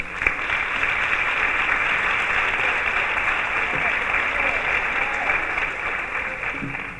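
Audience applause for the festival delegate at a town hall fair poster and book presentation, dense and continuous clapping from a crowd holding steady for the whole stretch.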